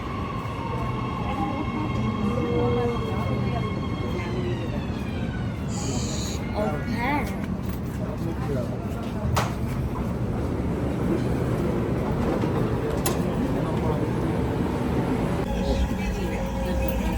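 Riyadh Metro train in motion, a steady rolling rumble with faint tonal whine and occasional clunks, heard from inside the carriage with voices talking over it.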